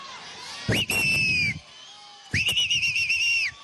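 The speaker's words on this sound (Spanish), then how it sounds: "cómo silba aquella mujer, mira." A woman gives two loud, sustained high whistles, each about a second long, separated by a short pause, with crowd noise and voices beneath at a school-year opening event.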